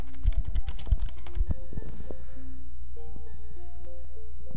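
A title being typed on a computer keyboard, a quick burst of close, clicky keystrokes in an uneven rhythm, then thinning to scattered single taps.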